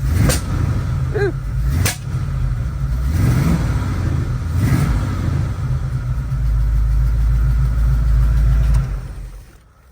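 A home-built car engine runs loud and close, rumbling with a few sharp revs rising and falling early on before settling into a steady drone that fades at the end.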